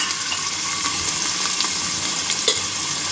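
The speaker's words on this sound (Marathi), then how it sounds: "इकडे आपला कांदा भाजून होतोय" Chopped onion frying in hot oil for a Sunday special vajdi, a steady close hiss and sizzle with faint stirring ticks throughout, no voices.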